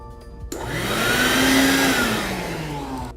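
An air blower runs steadily and loudly from start to finish, its whirring tone rising slightly in pitch and then easing back, with no talk over it.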